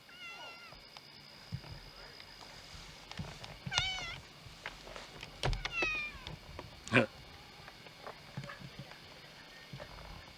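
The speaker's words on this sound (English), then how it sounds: "The cat's name is Shadow." A cat named Shadow meows several times in short, drawn-out calls spread across the stretch, over a low background murmur with faint voices nearby.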